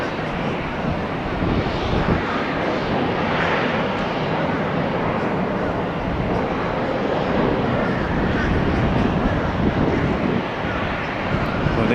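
A Learjet 60 medevac jet takes off in gusty wind, producing a continuous, broad roar that swells and holds steady, with wind buffeting the microphone throughout.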